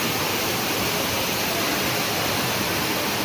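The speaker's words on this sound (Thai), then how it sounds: "บรรยากาศ น้ำตกกลางห้างนะคะ" Steady, loud rush of an indoor waterfall inside a shopping mall, a continuous broadband roar of falling water that holds evenly throughout with no talk.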